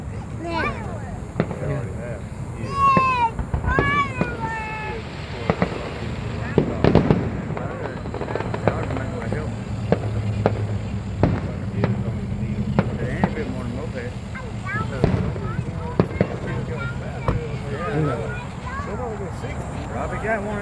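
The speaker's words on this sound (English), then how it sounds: "Film the fireworks." Fourth of July fireworks crackle and boom in steady bursts throughout, with whistling rockets rising near the start and scattered louder bangs, while people talk nearby over the display.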